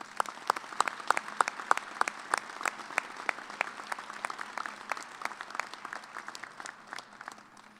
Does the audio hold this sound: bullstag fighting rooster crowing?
no